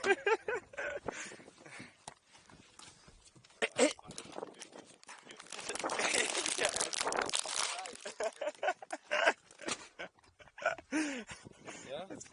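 A dog snatches cookies in their packaging, with crinkling, rustling and scuffling sounds and short bursts of movement close by, while people talk excitedly over it.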